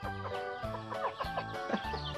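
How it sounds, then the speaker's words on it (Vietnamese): A flock of hens and chicks clucks close by on a Vietnamese farm, in a busy overlapping stream of short calls with no one speaking. "Rất đông gà con luôn nhờ."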